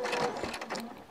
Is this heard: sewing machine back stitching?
yes